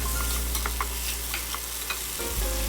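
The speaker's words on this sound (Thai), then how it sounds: "ใส่ลงไปในกระทะและผัดคลุกเคล้าให้เข้ากันเลยค่ะ" Okra stir-fried in a wok with dissolved shrimp paste, the close sizzle broken by repeated spatula scrapes and clinks against the metal in an irregular rhythm.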